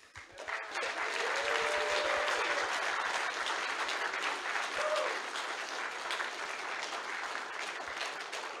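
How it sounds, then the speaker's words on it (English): Sustained audience applause for Lauren Southern at a live university talk, a dense, steady clatter of many hands that rises quickly and holds for several seconds, with faint voices underneath. "one more round of applause for Lauren"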